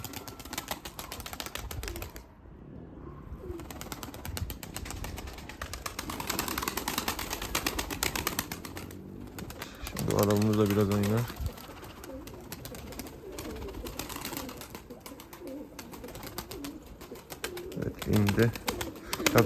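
Breeding pigeons coo in a loft, low rhythmic bursts standing out around the middle and again near the end over a steady background of rustling, clicks and a person talking.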